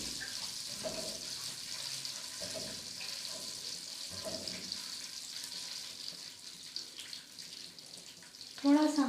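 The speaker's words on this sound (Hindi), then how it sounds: "साबुत गरम मसाला हमने इसमें थोड़ा सा फ्राई कर लेना है" Whole garam masala spices fry in a pan on a large burner, giving a soft, steady sizzle in the background with a few faint clatters and a brief louder stir near the end.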